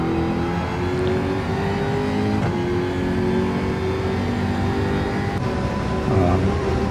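A race car engine in a racing video game, GR4 and GR3 class cars at the Lago Maggiore circuit, drones steadily and loudly, its pitch climbing as the car builds speed out of a corner, with a brief shift blip partway through.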